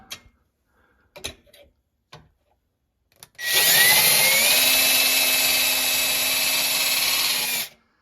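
A few light knocks and taps, then a power drill whirs at high speed for about four seconds before cutting off, pre-drilling holes for a dishwasher mounting bracket.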